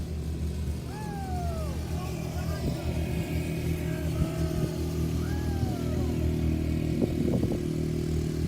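Beach patrol police vehicles roll past with a steady low engine rumble that holds throughout, while birds chirp in the background.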